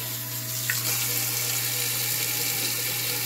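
Water from a kitchen faucet runs steadily into a sink beside a garbage disposal, a constant close hiss and splash with a low hum underneath, no voices.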